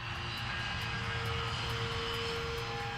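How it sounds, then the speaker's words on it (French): Aircraft engines drone steadily at Manchester airport on a morning in 1985, a continuous low rumble with a thin whine above it, moderately distant and unbroken. "Les premiers avions de la matinée s'envoleront sous peu."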